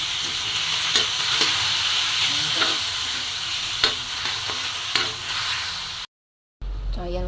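Corned beef and tofu fry in a pan with a loud, steady sizzle and intermittent stirring scrapes, then a short silence before the frying resumes.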